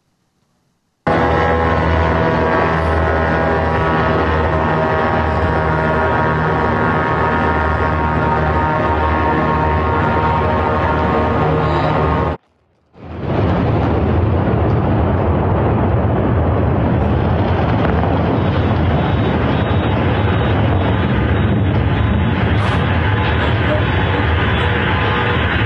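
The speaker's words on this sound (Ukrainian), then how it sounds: "Вибухало потужно, якраз звук цього вибуху у передмісті Москви, в Красногорську, ми зараз можемо і почути." A powerful explosion in Krasnogorsk, a suburb of Moscow, heard as a sustained loud roar of rumbling noise that cuts out sharply for a moment before a thick, crackling rumble returns and continues to the end.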